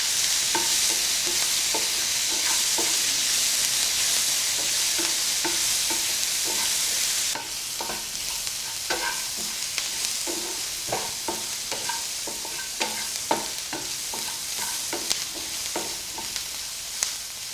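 Chopped onion and green chilli sizzle in a hot pan while being stirred, a steady close frying hiss broken by frequent scraping, clinking stirs of a spoon against the metal.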